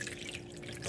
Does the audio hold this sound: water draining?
yes